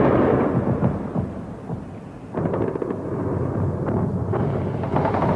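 Explosions during the 1986 air raid on Tripoli, Libya, rumble and boom continuously, with repeated sharp cracks and deep rolling thuds layered over a dense, loud background of distant blasts.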